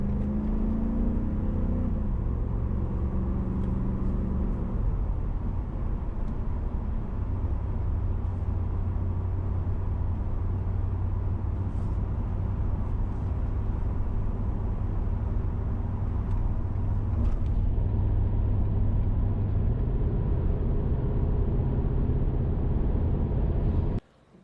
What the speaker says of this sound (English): so we're cruising here. Set the economy there. Set the cruise control at 72 miles an hour.